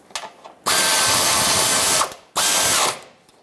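Ratchet wrench tightening a small bolt on a plastic heat shield near the thermostat housing of a 5.3L V8 2015-2020 GMC Yukon XL; two long, loud bursts of rapid clicking separated by a short pause.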